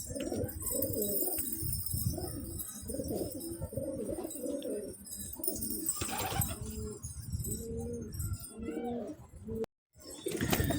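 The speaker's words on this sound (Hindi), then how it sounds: "देखें माशाल्लाह हमारे कबूतर नहा रहे हैं।" Domestic pigeons bathing in water, with steady soft cooing from several birds throughout, close by, plus faint chirps and a brief silent gap near the end.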